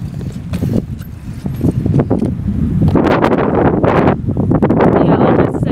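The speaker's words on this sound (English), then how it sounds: "It's really windy" Heavy gusts buffet the microphone in rough, booming bursts while riding a bike, growing louder and more constant toward the end.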